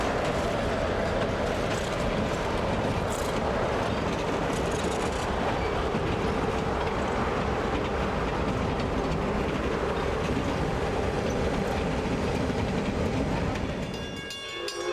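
Small steam locomotive 1702 hauls a heavy excursion train uphill toward Ferguson, with diesels on the rear end, in a loud, steady, continuous roar and rumble of working engine and rolling cars that holds close for the whole stretch before easing off at the end.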